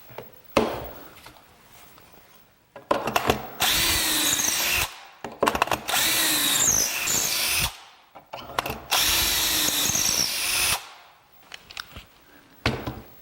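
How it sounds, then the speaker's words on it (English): Power drill boring holes into a wooden cabinet door, three sustained close whirring bursts separated by short pauses, with faint handling clatter between them. "now that we've got those holes drilled"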